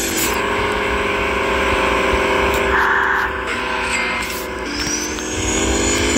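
A McLaren car in a Roblox video game drives with a loud, steady engine drone, tone shifting slightly as it runs, continuous and close with no talking.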